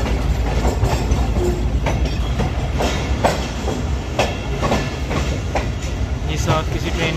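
The TezGam Express diesel engine builds power as it pulls out of the Lahore yard, with a loud, continuous rumble and roar overlaid by repeated rhythmic clacking of the wheels on the rails, heard close by.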